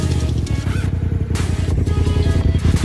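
A 2019 Razor Turbo XP side-by-side driven off-road, its engine roaring loud and close with a rough, pulsing throb and brief surges in revs throughout the short stretch.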